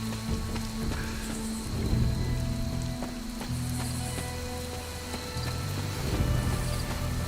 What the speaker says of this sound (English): Is it raining? Wow, these rain effects are trash.